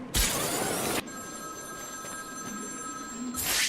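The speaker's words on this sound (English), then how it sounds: "There's a phone ringing somewhere." A telephone bell rings in Batman: Arkham City, two loud bursts of ringing separated by a quieter pause with a faint electronic tone, heard up close.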